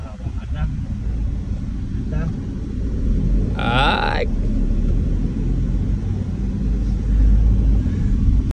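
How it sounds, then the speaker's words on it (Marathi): A car engine runs steadily while being driven, a constant low road rumble with mild swells; a person speaks briefly over it midway. "तर आपला भाचा गाडी चालवत आहे"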